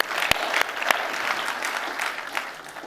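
A large audience at a formal New York fundraising gala applauds steadily, a dense wash of many hands clapping with a few louder claps standing out near the start.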